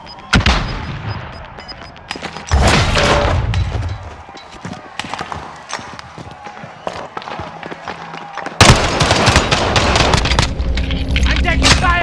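Video game gunfire from a military shooter rings out in repeated loud bursts and booms, heavy at the start and again in a dense stretch near the end, mixed with in-game voices.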